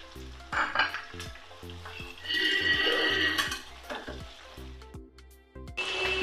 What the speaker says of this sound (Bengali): চিংড়ি মাছগুলো দিয়ে দিচ্ছি,